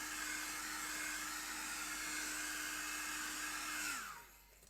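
A hair dryer runs loudly and steadily with a constant whine, then winds down and cuts off near the end.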